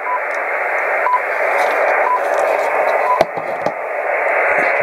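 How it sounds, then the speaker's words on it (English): An HF radio time signal received on a Cross Country Wireless active loop antenna (v4): short tone pips about one second apart over steady loud hiss, with a brief click partway through. "I can null the noise from that out completely, just allowing the time signal to come through"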